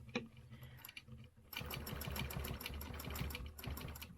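A sewing machine runs a quilting fill at close range, starting with a few short stitch bursts, then settling into a fast, steady, rhythmic chatter for the last few seconds.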